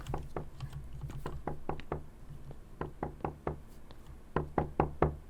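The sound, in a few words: knocking on a door in a horror video game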